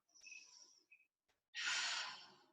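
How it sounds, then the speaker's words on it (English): Deep breathing during a yoga flow, with faint soft breaths at first, then one strong, breathy exhale that holds steady for about a second and sounds close and clear. "One more deep breath here."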